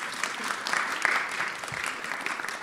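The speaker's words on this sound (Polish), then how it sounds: "Brawa." An audience claps for an author at a reportage festival meeting. The applause is steady and dense, at moderate volume, and lasts the whole stretch without fading.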